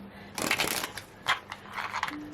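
Tarot cards shuffled close by in several quick papery bursts, the first and longest followed by two shorter riffles, with no talking.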